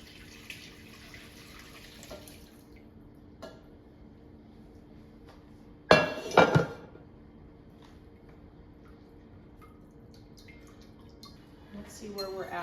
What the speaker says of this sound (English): I'm gonna pour it into my strainer here.